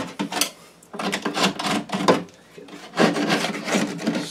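Putty knife scraping spackle across a drywall patch, repeated rough rasping strokes in bursts with short pauses between them, close and clear.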